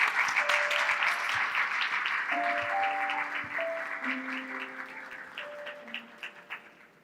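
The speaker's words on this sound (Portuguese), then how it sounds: "Salva de palmas para a esposa." An audience applauds for the speaker's wife at an event, a dense, sustained round of clapping mixed with a few brief voices and some music tones, fading out toward the end.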